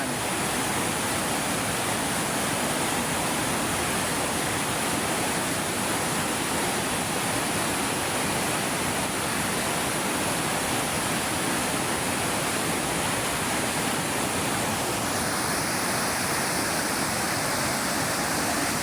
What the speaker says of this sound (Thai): จากสายน้ำไหลลงมา